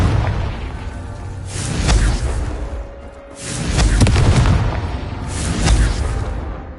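Explosive spell blasts from the video game Hogwarts Legacy, three loud booming bursts with whooshing tails spaced a couple of seconds apart, with quieter rumbling between them.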